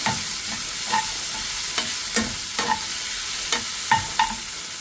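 Chopped tomatoes frying in a pan with okra for okra gravy, a steady close sizzle broken by repeated scraping stirs at an irregular rhythm.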